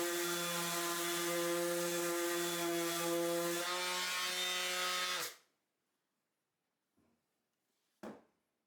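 Cheap 120 grit sandpaper rubbing across wood in a steady, loud, humming drone for about five seconds, then silence broken by a couple of brief knocks.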